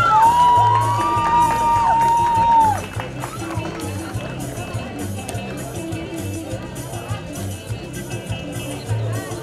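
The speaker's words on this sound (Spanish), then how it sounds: "Fuertes palmas al Colegio San Vicente de Paúl." Students at a school games inauguration in La Molina cheering and shouting for a school delegation, a loud crowd roar with whoops and scattered clapping, a whistle-like call at the start, then sustained chatter and applause.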